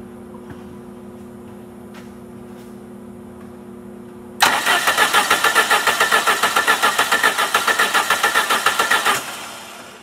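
A 1990 Plymouth Acclaim engine cranking over on the starter, a fast rhythmic churning that kicks in abruptly after quiet and runs about five seconds before cutting off, close and loud.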